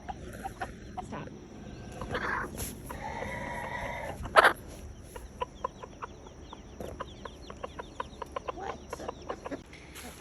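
A lone rooster clucks and calls near a backyard coop, with a short harmonic squawk, then a scatter of sharp pecking and clucking sounds, close and moderately loud.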